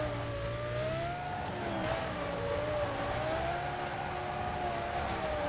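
A car drifting in the racing video game Need for Speed Carbon, its engine holding a steady high whine with slight pitch wobble over a continuous tire-squeal hiss, loud and unbroken throughout.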